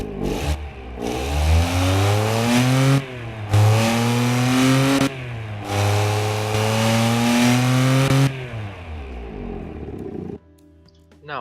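A simulated car engine in the video game Automation revs repeatedly through rising pitch sweeps, loud and close, with brief pauses between pulls and a short quiet tail at the end.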